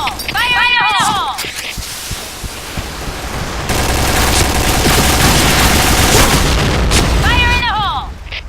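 A grenade bursts in a multiplayer shooter game, a dense roar of blast and rattling gunfire that swells midway and holds loud. Chirping electronic sweeps sound at the start and end.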